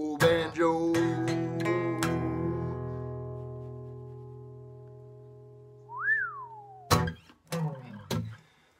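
A performer whistles an original tune at a virtual music festival, with clear ringing sustained notes separated by sharp knocks, a long held tone fading away, then a brief rising whistle and a few more percussive hits.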